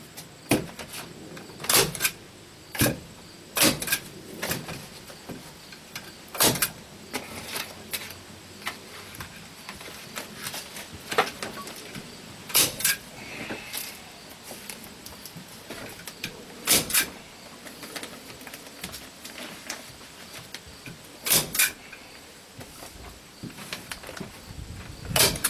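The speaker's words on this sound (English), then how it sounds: "I got my trusty stapler, power stapler." Power stapler driving staples into insulation in a battery shed, giving sharp isolated clacks spaced a few seconds apart over a quiet background.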